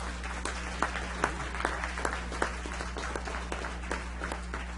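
A city council audience applauds for an honoured local student, a faint, sparse patter of hands clapping in a hall over a steady low hum, without talk.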